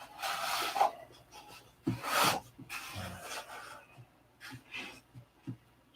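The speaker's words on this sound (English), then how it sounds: "You have a lot more control over sandpaper than you do the knife, because this is taking off, 64th of an inch of balsa at a time" Sandpaper rubbing across a balsa wood wing, a dry scratchy rasp in several irregular strokes of varying length, close by, with quiet gaps between passes.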